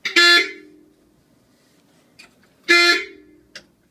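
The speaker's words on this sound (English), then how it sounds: "can I honk the horn?" Two short, loud car horn honks from a VW Kombi a couple of seconds apart, each followed by a faint click, with quiet in between.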